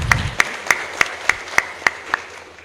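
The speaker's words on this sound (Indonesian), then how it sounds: "Tepuk tangan." Evenly spaced, sharp claps at a new-student orientation ceremony of an Indonesian open university in Lahat, sounding like a slow, rhythmic group clap, one beat about every third of a second over a quiet room.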